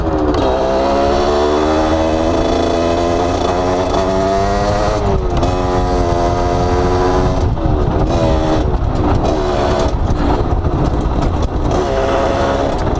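Motorcycle engine revs up loudly and close, with its pitch climbing and then dropping at each of several gear changes as the rider shifts up through the gears.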